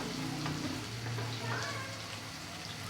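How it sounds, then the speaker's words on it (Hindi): Tomatoes fry in a pan for beef pulao, giving a continuous soft sizzle close by with a faint low hum beneath. "चलें अब इसके भूनने का वेट करते हैं"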